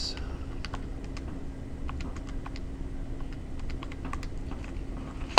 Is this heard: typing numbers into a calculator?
yes